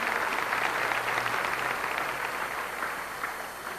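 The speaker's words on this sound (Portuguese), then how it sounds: "Vamos aplaudir a Glaucia, a recuperação dela." A church congregation at a Catholic gathering applauds a woman's recovery, a thick wash of many hands clapping that stays steady, then gradually softens toward the end.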